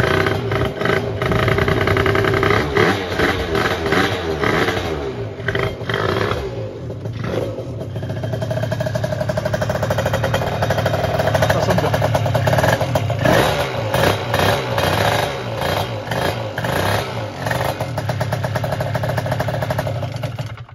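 An MBK Rocket scooter engine, a restored childhood two-stroke scooter, runs steadily with a buzzing idle and occasional throttle blips, loud and close, with no talking.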